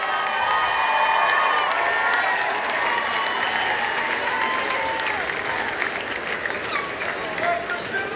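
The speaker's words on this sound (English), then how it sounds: "turn and applaud your relatives, your friends, your supporters" Graduating class of 2008 at a USC Annenberg School for Communication ceremony applauding relatives and friends, dense sustained clapping from a large crowd with scattered cheers and shouts, steady and loud throughout.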